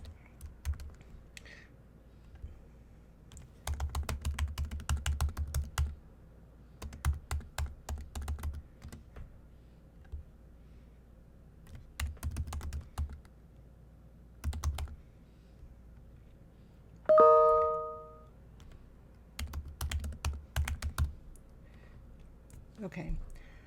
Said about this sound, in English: So I'm going to just retype this real quick.